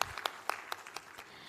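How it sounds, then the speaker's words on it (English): Scattered applause from a graduation convocation audience, a few distinct, fairly faint claps in an uneven rhythm, with no voices. "why don't we start off with a big round of applause for everything you have gone through to come to this day"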